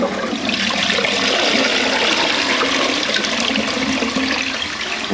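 A toilet cistern fills with water after its valve is opened, a loud, steady rushing and hissing flow that runs unchanged throughout, close and without speech.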